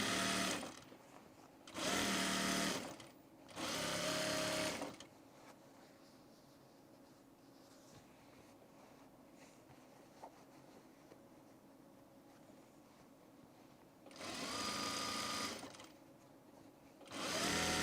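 A sewing machine runs on men's pants in three loud, steady whirring bursts of a couple of seconds each early on, then falls quiet, then buzzes again in one longer run near the end.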